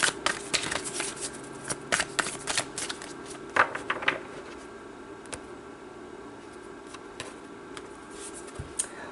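Tarot cards shuffled by hand in a burst of quick riffling flutters and soft slaps during the first four seconds, then only a few isolated card flicks against a quiet room.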